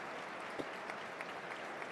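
A stadium crowd gives sympathetic applause as a centre-back is substituted during a Sunderland versus Hull City match: a steady, distant wash of clapping with no single claps standing out.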